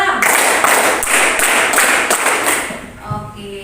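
A classroom of students does a rhythmic clapping game as an icebreaker before a lesson. Loud, close, dense group clapping comes in pulsing bursts and fades near the end, with voices mixed in.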